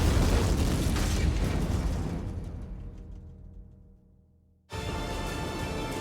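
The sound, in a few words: candy-fueled rocket launching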